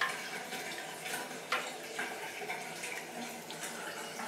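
Hot wort in a brew kettle stirred gently around an immersion chiller, steady close liquid swishing and sloshing with faint clinks against the coils.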